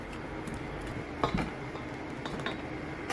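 Muffin batter of evaporated milk, melted butter, egg and vanilla being stirred in a bowl for banana matcha muffins, with repeated light scraping and faint clinks of a utensil against the bowl, close by with no talk.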